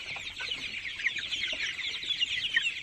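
A flock of 24-day-old tiger chickens on a farm in winter clucks continuously and close up, a busy overlapping chatter with no pauses.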